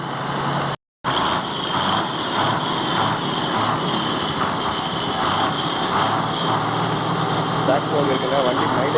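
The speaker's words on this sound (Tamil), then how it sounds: "நான் ரேஸ் பண்ணி இப்போ காட்டுறேன், நீங்களே பாருங்கள்." A lorry's diesel engine, one being checked for black smoke and poor mileage before decarbonising, roars steadily at close range under raised revs, with only a brief dropout early on.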